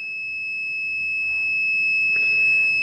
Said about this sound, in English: the relay will on and buzzer will beep.